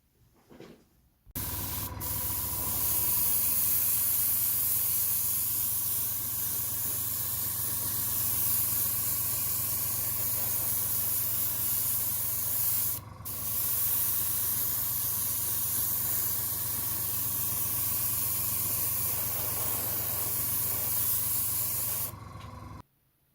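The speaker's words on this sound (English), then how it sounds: "now I'm going to do a base coat of Vallejo Model Air White Grey." Airbrush spraying Vallejo Model Air White Grey base coat onto a Battlestar Galactica model, a steady close airy hiss running continuously for about twenty seconds with one brief break midway.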